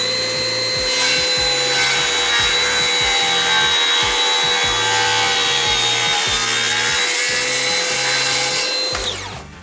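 Loud, close, continuous whine of a Skil circular saw cutting through wood at a 45-degree bevel, a steady motor drone with rough sawing texture that cuts off sharply at the end, no talking.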